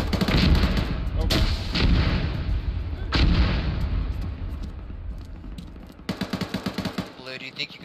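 Grenade blast in a tactical military shooter game, a heavy boom at the start followed by further loud explosive bursts and gunfire, with rapid machine-gun rattle near the end and a voice speaking over it.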